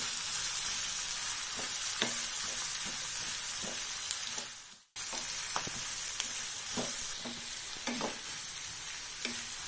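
Onion and chopped tomatoes fry in a pan with a bright, continuous sizzle, punctuated by soft stirring knocks, heard up close; the sound cuts out briefly midway and then resumes, with no talking.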